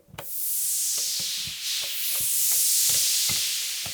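Elektron Syntakt drum machine synthesizer playing a rhythmic pattern of sharp percussive hits with a bright wash of reverb tails filling the gaps, steady and close, no voices.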